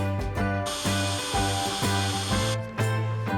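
A power drill whirs close by in several bursts, drilling holes in a Ram truck during a train horn install, its motor pitch rising and falling as it bites in, with short pauses between runs.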